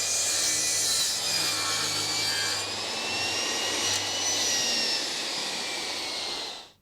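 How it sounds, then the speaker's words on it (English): A power saw cuts a wooden piece for a barn door frame, a loud, steady whining buzz with grinding wood noise that holds for several seconds before winding down at the end. "And now it's just a matter of cutting it to the right size and then fit it."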